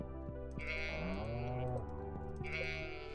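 Sheep bleat in the farming video game Stardew Valley: two drawn-out wavering cries, the second shorter, over a steady looping game music bed with soft periodic ticks.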